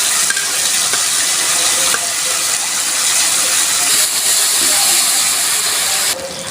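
Spice paste of chilli, ginger and cumin hits hot oil in a pan for a shoal fish curry, giving a loud, dense, continuous sizzle and hiss that eases slightly near the end.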